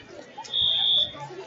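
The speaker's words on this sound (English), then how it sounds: "Fire alarms. Funny." A fire alarm gives a single steady electronic beep lasting about half a second, loud and close, with muffled voices around it.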